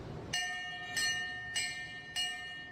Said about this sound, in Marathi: वाजव रे घंटा